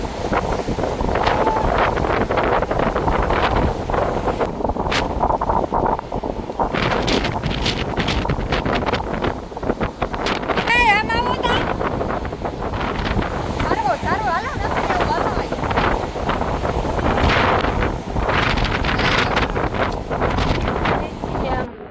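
Strong gusting wind outdoors in light rain near a temple in Dwarka, a loud continuous roar buffeting the microphone throughout, with people talking underneath.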